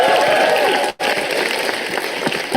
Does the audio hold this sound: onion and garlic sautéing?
no